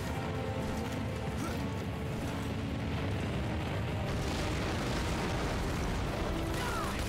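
Rumbling blast in the video game Lost Planet: Extreme Condition, a broad, loud, sustained boom with crackling debris rolling on for several seconds.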